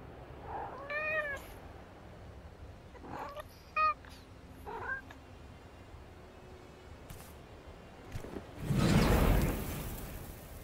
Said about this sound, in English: Look, is that a cat?